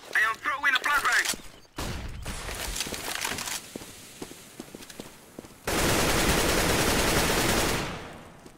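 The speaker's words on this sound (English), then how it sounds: "I am throwing a flashbang!" Gunfire bursts in CS:GO after a flashbang is thrown, with a sharp burst near the start, scattered shots and clicks, then a loud sustained blast of noise lasting several seconds before it fades.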